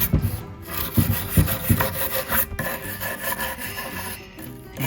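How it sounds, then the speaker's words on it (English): A wire brush scrubbing out holes in a wooden bowl being turned into a sink, rough close rasping strokes in quick irregular bursts, loud and alone. "I'm just gonna brush out the area with this wire brush"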